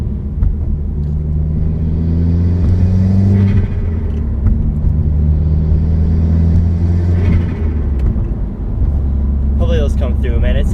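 A 2018 Subaru WRX with a Boomba blow-off valve and a big intake accelerates through two long rising pulls, loud and close, its engine rumbling steadily throughout.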